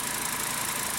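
A Volkswagen engine idles with a steady, even hum and fine rapid pulsing, heard close and alone for about a second.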